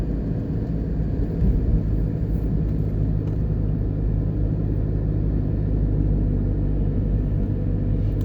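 A car passes along a road near a Jamaican overpass, a loud steady low rumble of tyres and engine filling the scene with no voices.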